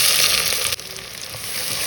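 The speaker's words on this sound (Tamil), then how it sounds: "வெங்காயம் வதங்க ஆரம்பிச்சிருக்கு" Chopped onions sauté in hot coconut oil with mustard seeds in a clay pot, giving a steady, close sizzle that dips briefly partway through, then carries on evenly with no one talking.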